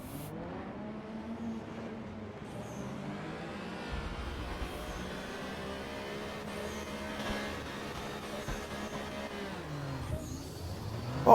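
A race car in the RaceRoom sim racing game at Brands Hatch accelerates off the grid at the start, its engine note climbing steadily through the gears with a rising, close whine, ending in a sudden loud burst.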